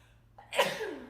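A single sharp sneeze bursts out close by after a short intake of breath, then trails off quickly.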